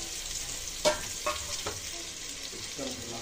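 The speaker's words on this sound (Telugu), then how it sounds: "ఈ ఆనియన్స్ని ఒకసారి మిక్స్ చేసుకొని గోల్డెన్ బ్రౌన్ కలర్ వచ్చేంత వరకు ఫ్రై చేసుకోవాలండి" Onions frying in hot oil in a pot, a steady soft sizzle with a few sharper stirring clinks and scrapes, close and moderately quiet, no voices.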